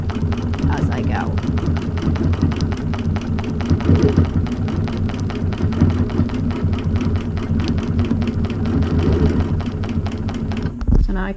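A Prodigy-style quilting sewing machine stitches steadily along a ruler, its fast, even needle chatter running continuously and up close, with a faint voice talking underneath at points.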